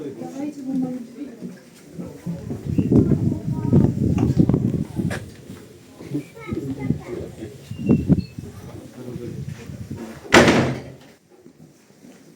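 People talk over a low background in the Wieliczka salt mine, underground, then a door bangs shut sharply and loudly near the end.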